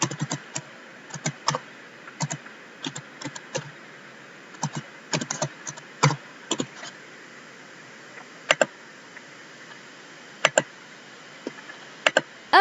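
Keys tapped on a laptop keyboard while typing a shortcut name, in irregular bursts of crisp clicks with pauses between, close and clear, no talking.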